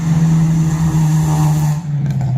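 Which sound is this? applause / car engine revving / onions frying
car engine revving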